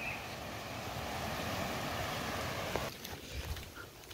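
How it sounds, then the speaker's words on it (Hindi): Floodwater rushes over a bridge near Kamnath temple, a broad steady roar of flowing water mixed with wind buffeting the microphone, constant and fairly close. "पर यहाँ पर ये ब्रिज के ऊपर से पानी कुछ इस तरह से जा रहा है।"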